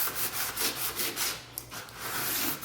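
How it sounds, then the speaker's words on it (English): Steady back-and-forth rubbing of a sanding sponge scuff-sanding a painted wooden desk, continuous and close, with a brief pause midway. "I'm going to give the entire piece a slight scuff sand"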